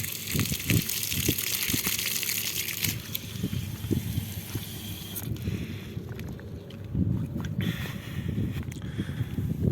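Water gushes from a well used to irrigate a corn field, a loud broad rushing that thins after a few seconds and leaves low rumbling and sloshing, with no talk.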